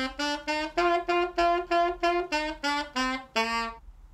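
Around ten short, separate notes on a saxophone or clarinet, each started with a 'ta' tongue attack on the reed, with small gaps between them. The pitch stays nearly level and rises slightly at the end, played clearly with no voice.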